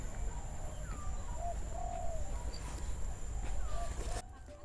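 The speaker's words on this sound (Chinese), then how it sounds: "这边充满了虫鸣鸟叫，" Birds call in Singapore's botanic garden, with soft dove-like coos and brief chirps rising over a steady hum of insects, moderately distant and continuous throughout.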